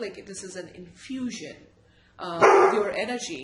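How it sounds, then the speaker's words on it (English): A pet dog barks in response to a doorbell at home, a sharp burst of loud barking erupting near the end after a quieter stretch, with someone talking over the sounds before it. "That was the doorbell and my dog barking."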